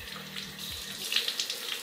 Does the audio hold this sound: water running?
yes